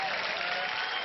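A studio audience on India's Got Talent gives a dense, steady burst of clapping that continues evenly the whole time.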